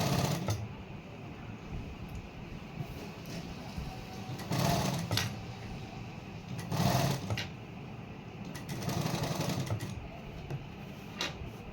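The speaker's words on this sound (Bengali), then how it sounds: "এখন এই সাইড দিয়ে একটা সেলাই বসিয়ে দিবেন" A sewing machine runs in several short bursts as it stitches a garment neckline right alongside the pasting, with quiet handling between the runs.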